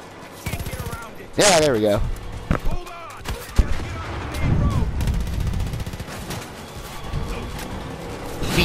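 Bursts of gunfire mowing down Nazi soldiers in a chaotic video game, sharp shots and rattling volleys layered over game noise and excited commentary that runs throughout.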